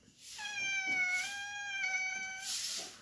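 Cat meowing, two drawn-out, strongly tonal meows close by, with rainfall heard around it.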